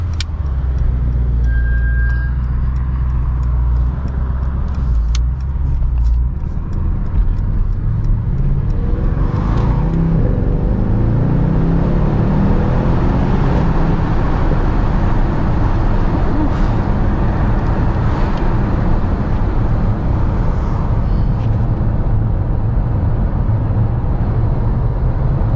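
A Mercedes-AMG S 63 exhaust drones low and steady from inside the cabin while driving, with engine pitch rising and falling through gears over a continuous road rumble.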